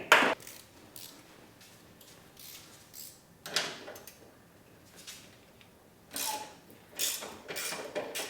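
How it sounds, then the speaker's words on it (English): A 9/16 ratcheting wrench clicks in short, quiet bursts of rapid ticking while working on a Toyota Supra, with pauses between each run. "Always good to have a ratcheting wrench around."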